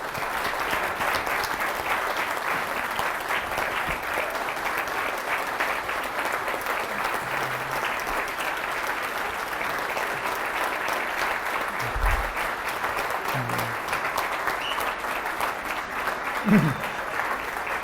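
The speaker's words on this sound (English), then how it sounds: "Give yourselves a big round of applause because you truly deserve it" An audience at an anniversary banquet applauds at length, dense, even clapping from a large crowd that holds steady for nearly eighteen seconds with a few louder claps near the end.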